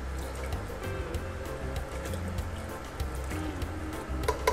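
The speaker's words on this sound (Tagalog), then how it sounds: "Kaya magdagdag na tayo ng tubig." Water added to Kapampangan goto rice porridge as it cooks in the pot, a steady close dribbling and liquid trickle with soft drips and bubbling throughout.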